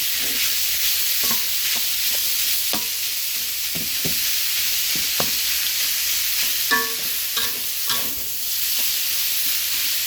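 Fermented pork sausage and egg being stir-fried in a small, light pan, with a steady loud sizzle and intermittent scrapes and clicks of a spatula against the metal.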